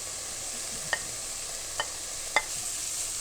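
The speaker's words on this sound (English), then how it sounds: "we saute with the garlic" Pancetta and garlic sauté in a pan for spaghetti Milanese, a soft continuous sizzle with three brief sharp utensil taps spaced apart, and no speech.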